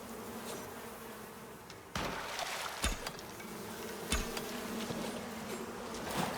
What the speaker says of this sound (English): I didn't really think arrows would work too well on bees.